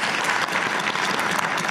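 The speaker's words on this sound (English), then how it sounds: "let's have a round of applause for my man Jason" Dense audience applause at a nightclub and bar show in Vegas, loud, close and continuous for the whole short stretch, with no speech over it.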